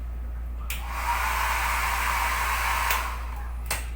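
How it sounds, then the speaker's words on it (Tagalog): Blow dryer blowing air: a steady, loud whooshing rush switched on about a second in and held, with a constant low electrical hum beneath and brief clicks near the end. "in this case it is the air by the blow dryer"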